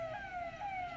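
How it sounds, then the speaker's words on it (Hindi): A fire engine siren wails steadily as fire trucks arrive at a fire at the Vallabh Bhavan secretariat building in Bhopal, heard faintly and continuously over low traffic rumble. "ये रायसेन की दमकल की गाड़ियां पहुंच गई है।"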